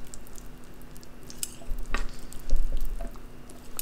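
Spicy jjajangmyeon noodles being stirred together with egg yolk, giving soft wet squishing and clicking sounds in close, irregular bursts, with no talking.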